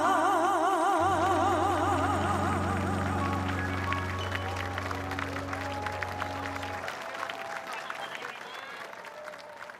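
Audience applause for a singer at a national ceremony marking the 80th Liberation Day, steady broad clapping throughout, beginning under fading sustained musical tones and continuing alone.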